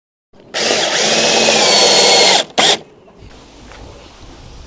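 A power drill drives screws during assembly of a Luba Mini AWD robot mower, a loud close whir of about two seconds, then a short second burst before it stops.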